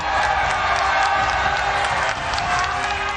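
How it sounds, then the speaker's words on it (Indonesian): An audience at a Democrat party event applauds Anies Baswedan and Muhaimin Iskandar with dense, steady clapping and crowd noise that fills the room evenly throughout. "Kita berdiri memberikan aplaus kepada mereka berdua."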